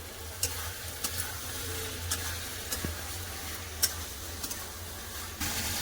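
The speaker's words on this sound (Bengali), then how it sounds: "ভেজে রাখা ঝিঙা আলু দিয়ে দেবো মশলার সাথে খুব ভালো করে কষে নেবো" Fried ridge gourd and potato sizzle in oily spice paste in a pan, a steady soft frying hiss punctuated by sharp clicks of a spatula stirring at irregular intervals.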